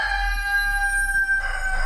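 A young rooster's crow rings out as a sustained, strained, tonal call over steady background hum, close and fairly loud, with no talk.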